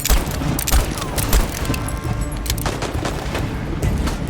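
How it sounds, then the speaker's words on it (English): Revolver gunfire in the video game Voidtrain, a rapid run of loud close shots and booms with rumbling tails, firing repeatedly throughout a few seconds. "The gun sounds really good."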